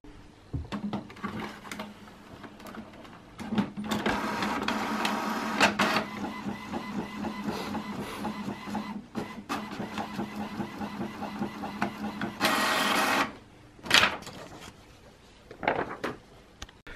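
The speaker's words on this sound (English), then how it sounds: "This is our printer, Ed." A printer runs with a continuous mechanical whir and rhythmic clicking for several seconds, then stops with a few short clunks and a final burst of feeding noise, close and without talk.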